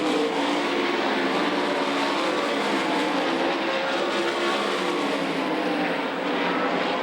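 Sprint cars roaring around the Knoxville Raceway dirt track in a feature race, a dense, loud, continuous engine roar from several cars at once, without speech.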